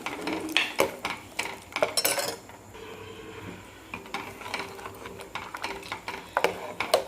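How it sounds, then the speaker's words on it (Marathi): A spoon stirs a curd and gram flour kadhi mixture in a pot, making close, irregular scraping clinks against the metal with short pauses between strokes. "उकळी येण्याच्या अगोदर छान असं ढवळत राहायचं"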